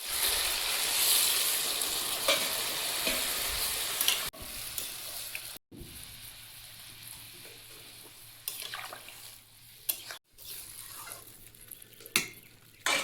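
Chili chicken sizzles and spits in a hot pan while a spoon stirs and scrapes it, with a few pauses and sharp clatters of utensil against metal.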